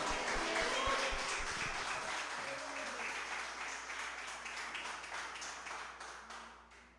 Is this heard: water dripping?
no